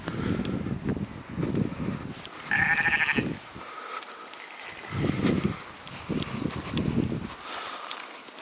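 Sheep on a farm after rain, bleating repeatedly up close while being given feed mix, the calls overlapping in short bursts with rustling and movement between them.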